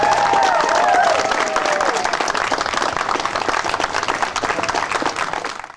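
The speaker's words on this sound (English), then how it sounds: "please give them a big round of applause" Large rally crowd applauding at an outdoor opposition rally against wind turbines in rural Ontario, steady dense clapping held throughout with a faint voice over it at the start.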